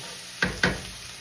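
Chicken and shrimp with plenty of onions fry in a pan, a short steady sizzle broken by two quick spatula scrapes against the pan.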